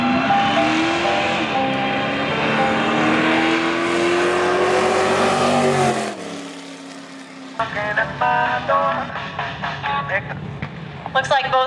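Drag racing cars at Coles County Dragway, a loud sustained engine roar rising in pitch for about six seconds, then cutting off, followed by choppier revving and engine bursts, with an announcer speaking over it.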